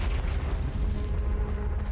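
A Confringo fire spell goes off in the video game Hogwarts Legacy as a deep, rumbling boom that swells and holds steady for about two seconds, loud and close, with no voices.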